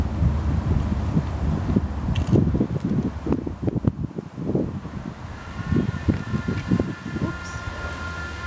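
Wind gusting through an outdoor backyard, a steady rushing roar with low buffeting rumble against the microphone, loud and continuous throughout.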